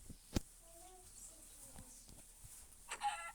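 Short clucking calls from a Minecraft chicken come in a few brief bursts, with scattered thumps and clicks around them.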